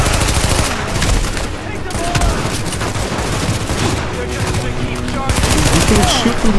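Rapid bursts of blind fire from behind cover in the video game Tom Clancy's The Division, dense overlapping gunshots rattling loudly and almost continuously throughout.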